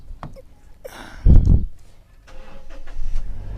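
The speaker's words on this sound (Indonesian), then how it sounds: "Di starter masih jereng garing." Car engine cranking on the starter in a 2008/2009 Toyota Innova 2.0G or 2013/2014 Honda Freed, a brief loud churning burst in the middle between quieter clicks and rustles.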